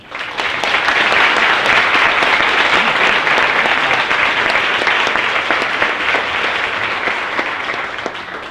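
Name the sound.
applause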